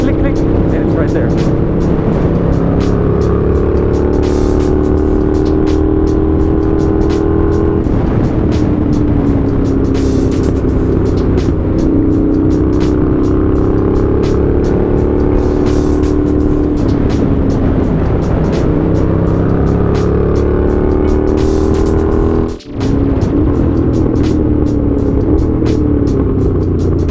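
A Honda GL650 motorcycle being ridden on a shakedown run, its engine droning loud and close with repeated rises and falls in pitch through gear changes, a momentary dip near the end and heavy wind rumble throughout.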